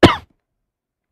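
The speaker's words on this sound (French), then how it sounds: "commence à tousser à cause d'un coup de froid" A man coughs once from a cold, in a quiet indoor setting in the mountains: a single short, loud cough, about a quarter second long, followed by silence.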